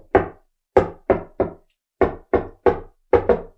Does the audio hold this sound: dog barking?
no